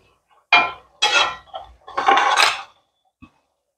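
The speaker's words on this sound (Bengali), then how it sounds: "চলুন এবার এটাকে একটু ঢেকে দিই" A lid set onto a pot of doi potol, pointed gourd simmering in a yogurt gravy: a few close metallic clanks and knocks in quick succession, then near silence.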